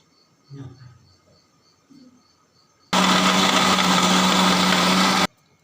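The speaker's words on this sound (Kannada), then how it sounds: "ಈಗ ತೆಂಗಿನ ತುರಿಯನ್ನು ಮಿಕ್ಸಿಗೆ ಹಾಕಿಕೊಂಡು ರುಬ್ಬಿಕೊಳ್ಳು." A kitchen mixer grinder blends one coconut's worth of grated coconut for a fenugreek porridge. After a few quiet seconds with faint background sounds, a loud, steady whirring roar starts abruptly, runs for about two and a half seconds, then cuts off.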